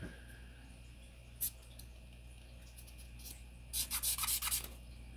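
Cotton swab scrubbing the slide rails of a Sig Sauer P365 pistol, a soft close rubbing with one brief scratch early on and a quick run of scrubbing strokes near the end.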